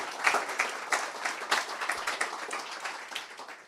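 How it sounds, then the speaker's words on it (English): Audience at the Ubuntu Summit tech conference applauds with dense, sustained clapping from a crowd, steady in level and rising and falling slightly over a few seconds. "If we could have another round of applause,"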